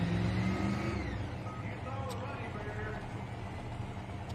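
Wild and Blue pulling truck at an NTPA truck and tractor pull, Raleigh, North Carolina, its loud engine roar winding down and fading as it shuts off, with an announcer talking over it.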